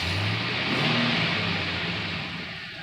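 An LS-swapped truck engine runs and revs, a steady mid-pitched growl that swells briefly and settles, close to the microphone and loud, with no voices.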